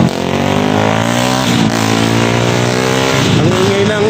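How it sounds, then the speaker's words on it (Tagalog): A loud vehicle exhaust revs steadily close by, its engine note rising and falling at a street on the way to C5 near Levy Mariano. "Ang ingay ng tambutso mo!"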